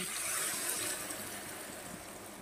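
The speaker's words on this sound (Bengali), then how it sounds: "এই পর্যায়ে আমি দিয়ে দেব পরিমাণ মতো জল।" Water poured into a pan of fried fish curry after the spice paste has cooked down, giving a steady broadband gush and splash that holds at a fairly even level through the short stretch, close and with no talk.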